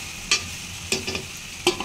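Egg bhurji with onions frying in a pan and being stirred with a spoon: a few short scraping strokes over a soft, steady sizzle, close and fairly quiet, with no talk.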